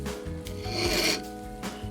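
A hand file rasps along a 45-degree bevel on a tapered brass clock pin held in a pin vise and braced on a piece of wood, giving a couple of short, close scraping strokes.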